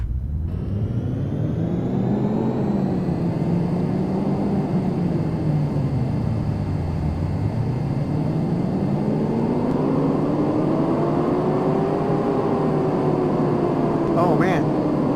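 A V12 engine swapped into a Mustang, already idling at the start, settles into a loud, continuous drone, and the revs rise and fall in slow swells as the throttle is worked.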